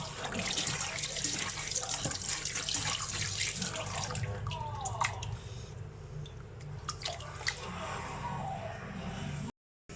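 Tap water runs steadily into a kitchen sink while raw chicken is washed for a Sri Lankan-style chicken curry, a continuous splashing flow with small drips and clinks, cutting off abruptly near the end.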